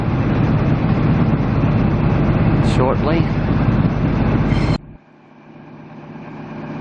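An XPT passenger train leaves Brisbane for Sydney with a loud, steady, close rumble, while someone talks over it; the noise stops abruptly near the end, leaving a faint hum.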